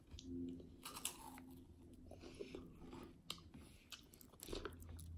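A crunchy Japanese Lawson convenience-store snack is bitten and chewed up close, with crisp crackling crunches in irregular bursts, quiet overall and no talking.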